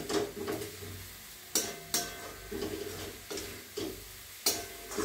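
Puffed rice being stirred in a pan on a low gas flame, salt added, giving a steady dry scraping and rustling with repeated sharp clinks of the spoon against the pan every second or so.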